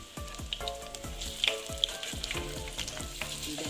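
Stuffed bread pakora frying slowly in oil over low heat gives a continuous bubbling sizzle, with steady crackles and gentle sputters throughout, close and moderately loud, and no voices.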